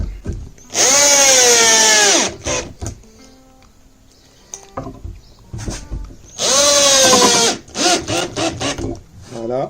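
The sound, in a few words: screws being driven into wood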